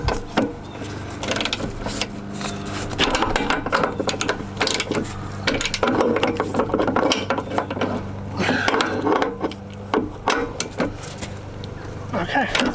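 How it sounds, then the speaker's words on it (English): A ratchet wrench tightens 19mm bolts on a shackle relocation bracket of a 1998 Jeep Cherokee, giving a dense run of rapid clicking ratchet strokes with metallic clanks, loud and close throughout. "grab my wrench, start tightening"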